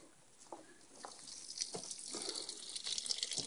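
Water drains and trickles off a seedling tray in a steady wet patter with small splashes, fairly quiet and close, building slightly in intensity with no voices present.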